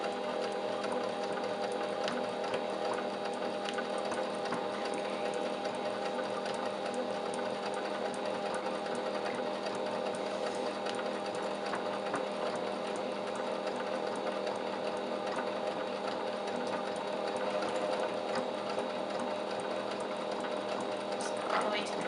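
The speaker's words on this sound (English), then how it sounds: "just going straight down the middle so your pot holder will be sewn to your towel" A sewing machine runs steadily and continuously, stitching a pot holder straight down the middle onto a dish towel, its rapid mechanical whir holding constant and close throughout while a person speaks over it.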